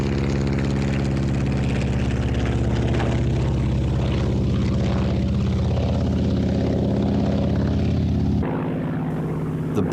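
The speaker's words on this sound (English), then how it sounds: "Lee Proudfoot also displayed the Fieseler Storch from the British Aerial Museum." A Fieseler Storch from the British Aerial Museum flying at an air display: a loud, steady propeller-engine drone holds without break, then drops off abruptly near the end.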